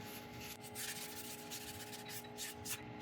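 A cloth or pad rubs finish onto a turned elm piece on a lathe, brisk repeated rubbing strokes over a steady motor hum, quiet and close.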